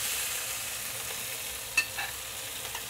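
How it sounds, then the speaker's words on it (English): Chinese eggplant goes back into a hot wok with garlic sauce, producing a soft, steady sizzle with a few sharp spatula clinks and scrapes as it is stirred around. "All right, now we add the eggplant back in."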